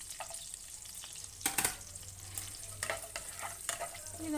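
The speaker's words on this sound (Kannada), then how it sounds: "ಇದೊಂದು ಸ್ವಲ್ಪ ಎಣ್ಣೆಯಲ್ಲಿ ಬಾಡಿಸ್ಕೊಂಡಂತೆ" Four or five garlic cloves frying in oil in a pan for a dhaba-style fenugreek-leaf gravy, a steady close sizzle with a few louder stirring scrapes and bursts partway through, no voices.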